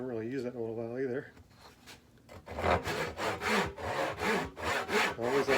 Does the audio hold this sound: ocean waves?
no